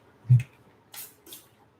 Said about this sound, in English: I'm spraying the floor next to the dog so she stops.